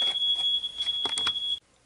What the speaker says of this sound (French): On a un détecteur de fumée ultra sensible.